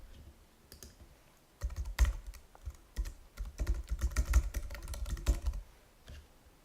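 A serial number being keyed on a computer keyboard, a close run of irregular clicking keystrokes that comes in quick bursts with short pauses between them.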